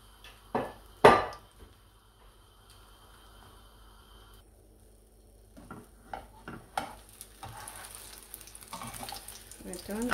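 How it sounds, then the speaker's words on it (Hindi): Thick custard-soaked bread slices for French toast fry on a medium flame, a soft, faint sizzle broken by a few sharp clatters early on, then a busier crackle with light handling noise toward the end. "तो मैं मीडियम फ्लेम पे फ्राई करूंगी,"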